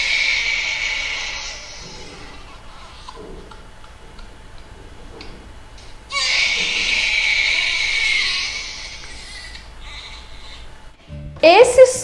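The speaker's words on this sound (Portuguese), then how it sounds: "Se você respondeu que é um bebê chorando, você acertou." Baby crying in high, drawn-out wails that come in long bursts with brief quieter gaps, loud and close, ending in a sharper outburst.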